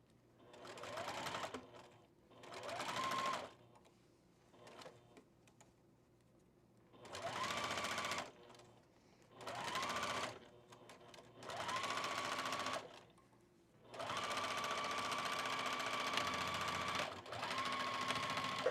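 A sewing machine stitches a top in several bursts of rapid whirring, each a few seconds long with quiet pauses between, ending in one longer run, close and alone.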